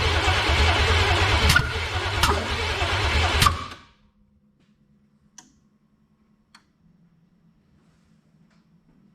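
A 454 V8 engine with ignition trouble cranks and runs roughly for a few seconds, with sharp ticks and pops, then cuts out into near silence broken by a few faint clicks.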